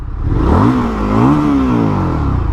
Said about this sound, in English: Let's hear that engine note.